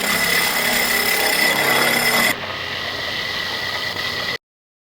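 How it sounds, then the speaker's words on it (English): A step bit enlarging a hole to 1 1/8 inch in a fuel-system part during a TDI engine swap: a loud, steady power-drill whine that drops to a lower drone midway, then cuts off abruptly. "going to be using a step bit to drill through this and enlarge it to 1 1/8"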